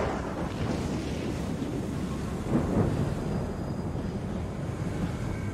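A sea storm in a video game: a steady roar of wind and crashing surf with a rumbling swell of thunder midway, continuous and enveloping.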